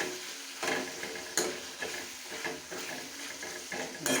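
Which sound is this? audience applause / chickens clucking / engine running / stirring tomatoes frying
stirring tomatoes frying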